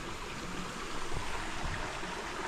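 Steady rushing water from a spring flows continuously out of a hose, a broad even hiss close by with no voices.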